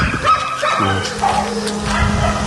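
A dog barks and yips close by in a loud, excited flurry, with a few higher whines mixed in.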